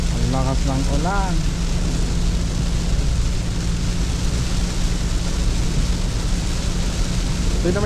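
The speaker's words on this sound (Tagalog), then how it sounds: "ang lakas ng ulan." Heavy rain pounds steadily on a car driving on an expressway, a dense, loud hiss that continues throughout, with a brief voice or tone near the start.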